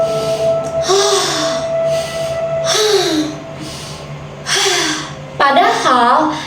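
A shallow chest-breathing demonstration, with quick audible gasping inhales repeated at regular intervals, close and fairly loud, under a steady background hum while a person talks.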